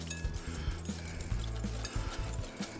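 Ingredients for a Basque cake with black cherry jam are gently stirred in a bowl, giving soft irregular scraping and swishing strokes close by, with a few light knocks from the utensil.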